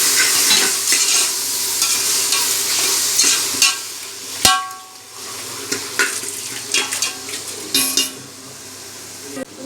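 Tomatoes and onions sautéing in a pan for bachelor-style biryani, with steady sizzling and frying under repeated scraping and stirring from a utensil against the pan, plus occasional metallic clinks, close up and with no talk.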